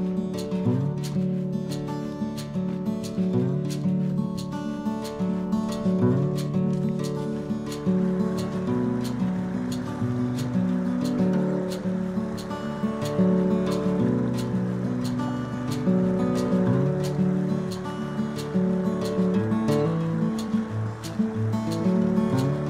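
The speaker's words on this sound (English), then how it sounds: "this is my little gurgling brook" A small gurgling brook along Mt Hood's Timberline Trail, steady rushing and bubbling water heard up close, continuous and fairly loud with a faint rhythmic ticking over it and no talking.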